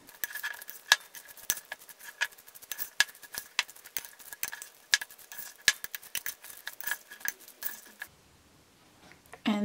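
Guacamole being stirred with a utensil in a bowl: rapid, irregular clinks and scrapes of metal against the dish, close and fairly quiet, ending in a brief lull.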